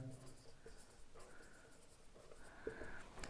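Pen scratching across paper in bursts during a Class 10 maths probability lesson, soft and close, with speech heard in the background.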